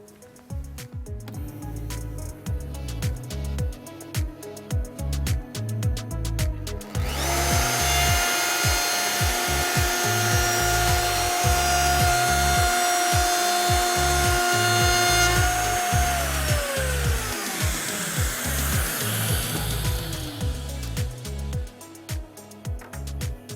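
Festool CONTURO KA 65 edge bander trimming glued edging: a loud, steady high-pitched routing whine runs for about eight seconds, then drops away, framed by rhythmic clattering and tool handling noise before and after.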